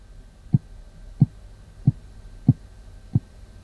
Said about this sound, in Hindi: अब मेरी दिल की धड़कन तेज हो गई